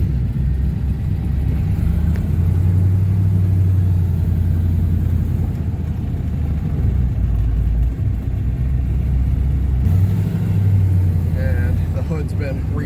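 A 1970 Buick GS engine drones loud and steady while driving down the highway and back roads during break-in, its low rumble swelling briefly as it revs, with a voice talking over it.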